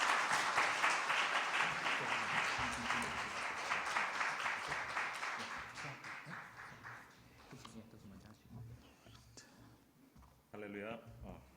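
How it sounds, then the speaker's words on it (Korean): A church congregation gives warm applause to welcome a pastor to the pulpit, loud dense clapping that gradually thins and fades, giving way to a speaking voice near the end. "뜨거운 박수로 하나님께 응원의 박수로 하면서 모시도록 하겠습니다"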